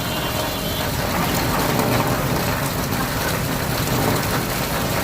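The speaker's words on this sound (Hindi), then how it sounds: "कैंची धाम में बरसात हो रही है लगातार" Rain falls steadily and heavily at the Kainchi Dham temple in Uttarakhand, a dense continuous hiss of drops pattering on surfaces, close and loud with no voices.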